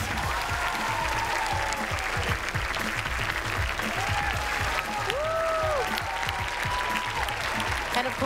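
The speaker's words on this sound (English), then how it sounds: "One more big round of applause for our winners." Audience applause for the winners at the National STEM Championship 2023 televised finale: steady, dense clapping from a large crowd, with a few voices and whoops rising over it throughout.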